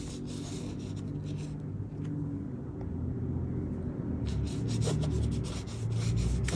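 An edge glider burnisher rubs back and forth along the edge of 1-2 oz leather with light pressure, a close, continuous raspy friction sound in repeated strokes.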